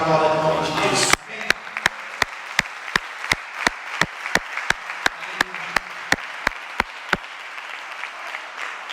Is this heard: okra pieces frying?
no